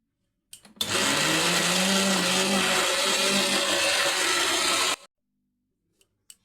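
A blender grinding grated coconut with water runs loud and steady for about four seconds, starting and stopping abruptly, with no talk over it.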